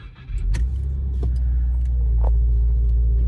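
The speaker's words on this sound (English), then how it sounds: "now we're gonna start it. You gotta press the clutch." A 2021 Subaru WRX base model engine, manual with the clutch pressed, cranks and catches on a cold start, then settles into a steady, close, deep rumbling idle with a few light clicks.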